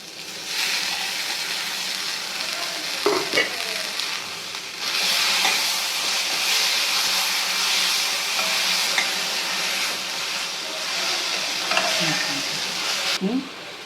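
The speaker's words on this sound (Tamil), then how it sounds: "கொஞ்சம் இது நல்லா ப்ரௌனாக வர வரைக்கும் வதக்கணும்" Onions sizzling steadily in a hot pan as they brown for chana masala, with occasional scraping stirs of a spoon, close and continuous.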